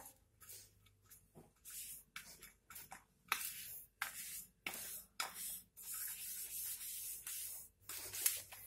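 A spatula scrapes and smooths a hot jaggery and peanut mixture across a ghee-greased plate in short, repeated rasping strokes with brief pauses between them.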